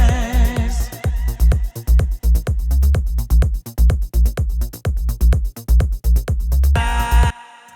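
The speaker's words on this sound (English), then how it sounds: "once again, we've got the sidechain compressor, which is going to bounce that slightly." Melodic techno drums pump with a sidechain compressor, a punchy kick driving steady four-on-the-floor beats while the layered synths duck and swell between hits, ending with a brighter fill.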